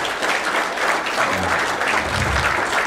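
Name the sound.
audience applause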